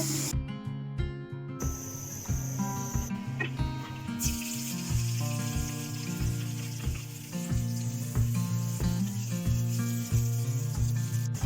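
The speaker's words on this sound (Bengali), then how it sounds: "মাছগুলোকে আমি একটু হালকা করে ভেজে নেব। হাই হিটে আমি 2 থেকে 3 মিনিট ভেজে নেব।" Small fish fry on high heat in a pan, giving a continuous bright sizzle layered under rhythmic background music with a steady beat.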